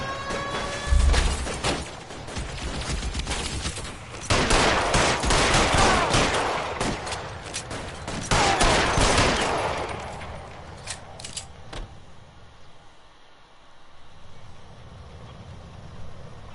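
Video game shootout with sustained loud gunfire, dense volleys of shots over the first ten seconds, then a few scattered single shots before fading to quieter ambience.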